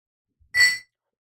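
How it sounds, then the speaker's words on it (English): Two glass objects clink together in a single short, bright ring that fades within a moment, close and fairly loud against silence. "glass on glass, I'm so sorry."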